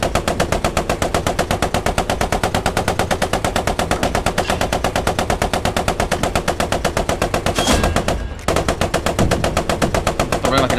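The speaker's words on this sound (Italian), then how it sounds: "Usa la mitragliatrice." Sustained, loud machine-gun fire from a Cromwell tank in the game Post Scriptum rattles almost without a break for eleven seconds, with one short pause near the end.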